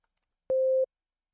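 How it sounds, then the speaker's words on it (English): A simple 808 synth tone built from a pure sine wave sounds as one short, steady, clean hum lasting about a third of a second, alone against silence. "to start off with like the super simple 808, you just need a sine wave. So it sounds like that to start."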